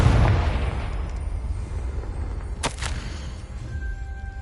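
A Confringo blasting curse explodes in Hogwarts Legacy on PlayStation 5 with a deep, rumbling boom that fades into a sustained low roar, plus a brief bright crackle partway through, loud and close.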